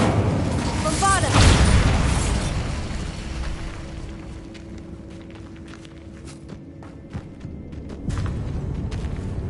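A Bombarda spell explosion in Hogwarts Legacy: a short spoken exclamation, then a loud, deep booming blast that decays into rumble, followed by scattered debris clatter and footsteps, with another heavy swell near the end.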